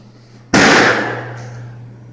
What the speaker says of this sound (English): pay attention to the way this pendulum sounds